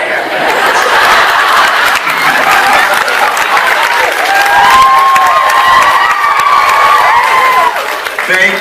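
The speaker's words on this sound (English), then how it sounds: "Round of applause." A convention panel audience gives loud, sustained applause mixed with cheering and laughter. The dense crowd noise holds steady throughout, with some scattered shouts.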